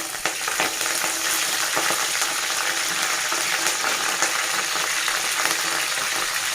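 Curry leaves and green chillies frying in hot oil for pepper rasam, a steady, loud, dense sizzle with scattered crackles and pops throughout, no voices.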